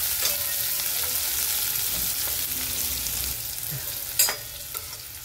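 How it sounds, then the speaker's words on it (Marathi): Onion being sautéed in a pan for a leftover idli breakfast dish, a steady close frying hiss with a brief stirring scrape and clink near the end, no voices. "आता कांदा टाकून घेऊ। कांद्याला परतून घेऊ चांगलं।"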